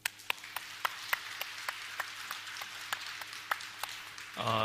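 A church congregation at a Sunday morning service claps for a newlywed couple, a faint, even run of sharp claps at a regular beat, with a brief voice at the end.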